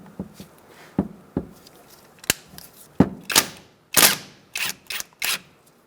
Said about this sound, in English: Using a 14mm socket, we're going to remove the bolt out of the caliper.